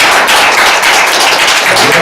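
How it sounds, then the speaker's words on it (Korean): Audience at a Jecheon candidate debate forum claps for two panelists, a steady dense wash of applause filling the whole moment without pause. "우리 격려 박수 부탁드리겠습니다."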